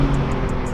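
A BMW M3 engine roars at full throttle with the rear wheels spinning on a straight, a loud, steady, close drone with no break.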